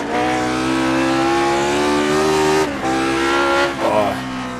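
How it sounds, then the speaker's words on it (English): A Lotus 49 race car in iRacing accelerates hard with a loud, steady engine note climbing in pitch, dipping briefly on a shift near the end before revving again, close and continuous. "Now let's see if we can get a little speed here on this straightaway before the S's."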